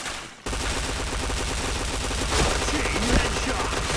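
Rapid automatic gunfire from a first-person shooter game, a dense continuous rattle of shots that starts abruptly and stays loud throughout, with bursts growing heavier near the end.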